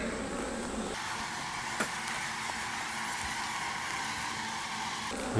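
Honey bees buzzing during an inspection of a single deep hive, a dense, steady drone filling the whole clip up close, with a faint knock or two from the frames and no voices.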